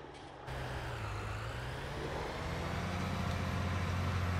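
John Deere 9R 2014 Series tractor in Farming Simulator 19, the engine starting up and then a steady, loud diesel drone as it drives, pitch rising slightly partway through.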